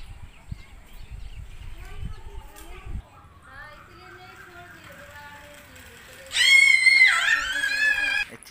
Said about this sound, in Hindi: चिल्ला रही है खाली।